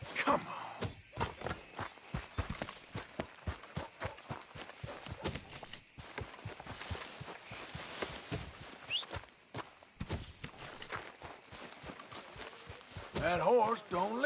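Horse hooves clip-clop in a steady rhythm throughout in Red Dead Redemption 2, with voices talking over them and some background game ambience.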